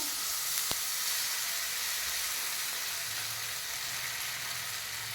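Soaked quinoa roti batter sizzling in a hot pan, a continuous close hiss with one sharp tap near the start.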